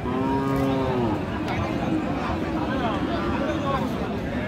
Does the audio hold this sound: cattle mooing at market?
yes